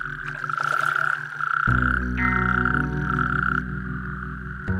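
Male natterjack toads in Wales call in a loud, continuous rasping trill, a chorus of several overlapping voices close by that swells and holds steadily throughout, with no talking.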